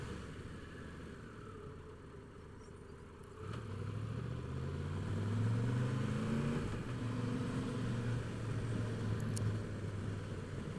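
Engine noise on the Hardknott Pass road in the Lake District, a low drone from the rider's own motorcycle that grows louder partway through as another engine draws near and passes, steady and with no talk.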